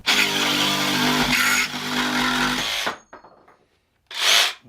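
A DeWALT 20V Max cordless jig saw (DCS334B) cuts through square metal pipe with a loud, harsh buzzing for about three seconds, then stops. After a short pause comes a second brief burst of noise.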